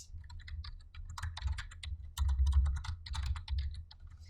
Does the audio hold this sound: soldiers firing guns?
no